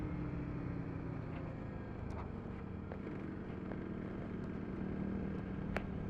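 A Suzuki motorcycle is ridden on an early morning outing, its engine giving a steady, continuous drone under wind rush at the helmet, with a few faint clicks and no talk.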